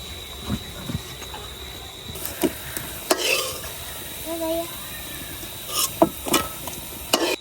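Potato pakoras fry in hot oil and are lifted out, a soft bubbling sizzle broken by scattered clinks and scrapes of a utensil against the pan; fairly quiet, with no talking.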